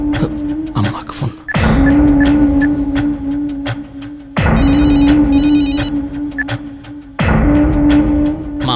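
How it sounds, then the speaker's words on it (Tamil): A telephone rings loudly and clearly in repeated bursts, with three long trilling rings separated by short gaps over a faint steady background, and no talking. "அம்மாக்கு ஃபோன்."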